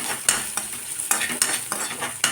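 Vegetable Maggi noodles fry and are stirred in a pan, giving a steady close sizzle broken by regular scraping strokes about every half second. No one speaks.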